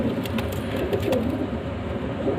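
Pigeons coo softly and repeatedly: a Rampuri male, a Ferozpuri female and their chick, with low murmuring calls over a steady background hum and no talk.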